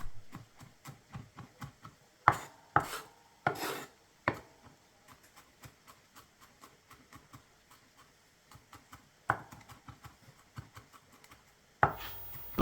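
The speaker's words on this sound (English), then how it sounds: "chop the garlic up nice and small" Garlic being roughly chopped with a knife into small pieces: a steady run of quick, light blade taps on the board, punctuated by a few louder, heavier thumps, close and with no talking.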